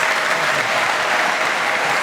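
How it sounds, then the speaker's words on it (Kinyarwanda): A church congregation claps for a visiting choir, a dense, even burst of applause from a crowd filling the room for a couple of seconds. "baje kubizimuhaye amashyi makeya"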